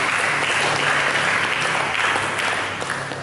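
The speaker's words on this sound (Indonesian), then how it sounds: "Berikan tepuk tangan bagi dia." A church congregation at an Ascension Day service applauds, a brief burst of steady, close clapping from the crowd with no one speaking.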